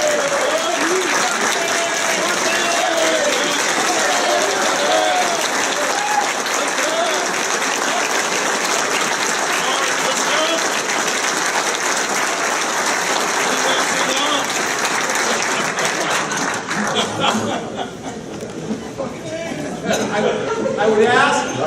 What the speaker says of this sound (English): I want Mark Miskin to get a big round of applause